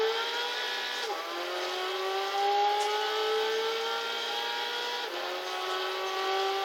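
An Abarth Grande Punto races around a circuit in Gran Turismo 6, its engine droning steadily at high revs with a couple of brief shifts in pitch as it changes gear, loud and continuous throughout.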